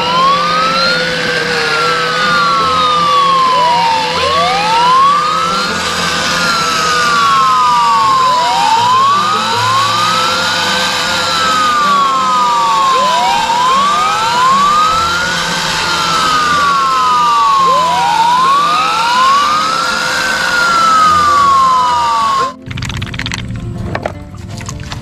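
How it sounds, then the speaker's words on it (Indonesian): A toy fire truck's siren wails loud and close in a steady, repeating rise-and-fall pattern for over twenty seconds before cutting off abruptly near the end. "Mobil pemadam kebakaran."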